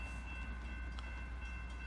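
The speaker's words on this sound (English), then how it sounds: "there's a train coming" Brightline passenger train drawing toward a grade crossing at Broward Boulevard beside a station, a steady low rumble with sustained tonal hum from the crossing area, heard alone without voices.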